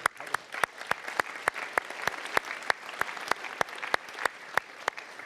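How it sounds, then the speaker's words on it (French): A small salvo of applause at a forum interview, with distinct individual claps ringing out in a quick, fairly even rhythm, moderately quiet and with no talk over it. "une petite salve d'applaudissements"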